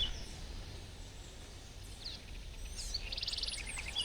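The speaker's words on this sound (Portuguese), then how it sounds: "o nosso ingresso deu direito a canto de passarinho" Birds sing in the Rio de Janeiro botanical garden, faint scattered chirps that give way to a clearer, quick trilling call near the end.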